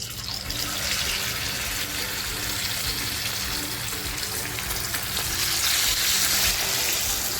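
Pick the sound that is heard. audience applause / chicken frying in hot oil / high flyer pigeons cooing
chicken frying in hot oil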